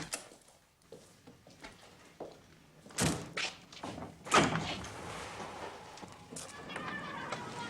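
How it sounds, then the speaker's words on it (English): Doors are opened in a British TV drama scene, with two solid thunks a second or so apart standing out over faint background shuffling and low murmuring. "Just open the doors with it."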